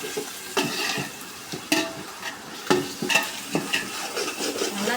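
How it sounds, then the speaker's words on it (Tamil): Chicken biryani masala being stirred with a ladle in a pan, with a sizzling fry underneath and a series of sharp scraping and clinking strokes at irregular intervals, close and moderately loud, with no talking. "அதில் மிக்ஸ் போட்டு நல்லா கரண்டியில் மிக்ஸ் பண்ணி விட்டிங்கன்னா"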